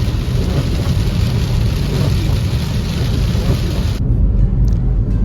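Steady heavy monsoon rain in the Konkan region of India roars throughout, dense and close, with a constant hiss that eases slightly near the end; no voices.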